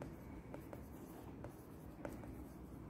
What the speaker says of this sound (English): Maybe I'll just write this down.